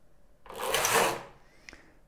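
A Knittax knitting machine carriage slides once across the needles, a brief rasping mechanical swish lasting under a second, followed by a faint click.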